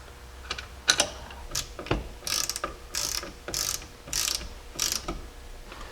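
Ratchet tightening a seat bolt on the seat bracket of a 2006–2009 Ram truck: a series of short, close clicking bursts of turns, irregular in rhythm, with no talk.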